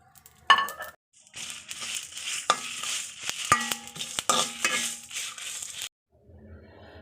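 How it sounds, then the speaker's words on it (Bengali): Mustard seeds, five-spice and whole dried chillies dry roasting in a dry pan over medium heat, with light rattling and scraping as they are stirred, punctuated by a few sharp clinks of a utensil against the pan, then a brief quiet. "এগুলো সব একটা শুকনো কড়াইয়ে মিডিয়াম আঁচে 2 থেকে 3 মিনিট টেলে নেব"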